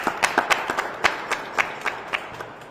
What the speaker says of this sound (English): let's show them some round of applause and show them our appreciation